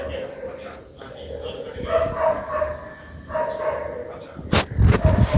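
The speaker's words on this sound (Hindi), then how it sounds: "गलियाँ सुनसान है और पूरे टाउन में सिर्फ कुत्तों का शोर है" Dogs barking across a deserted town at night in winter fog, scattered yips and barks at varying distance, louder bursts near the end, with a voice speaking over them.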